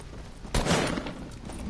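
A single loud video-game gunshot bursts out partway through, then fades into a rumbling tail over steady background noise.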